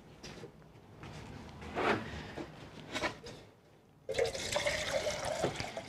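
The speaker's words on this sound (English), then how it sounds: "Oh, you need water." Water pours and splashes into a potted plant nearby in a few bursts, ending with a steadier rushing pour.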